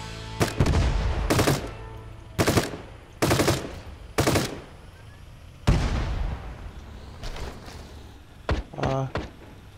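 Tank cannon and weapon fire in a PvP raid-defense video game: loud, separate booming blasts spaced a second or two apart, with quieter rattling bursts between and near the end.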